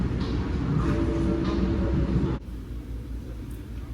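Steady low rumble of a Brightline passenger train in motion on the West Palm Beach to Miami run, heard from inside the Smart Class coach, loud and continuous, dropping to a softer hum partway through.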